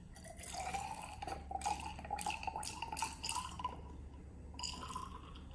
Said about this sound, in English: All I'm going to do is I'm going to measure 50 ml of distilled water.